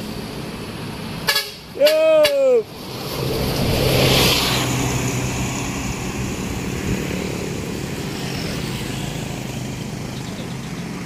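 Volvo B11R coach at a bus terminal exit sounds a loud multi-tone musical horn in a few quick blasts, then rumbles past nearby, its engine swelling and fading over steady road noise.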